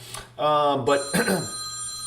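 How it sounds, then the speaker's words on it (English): A telephone rings in the background in a series of harmonic bursts, fairly loud and repeated within about two seconds, with a voice speaking around it. "Excuse the phone in the background, I'm sorry."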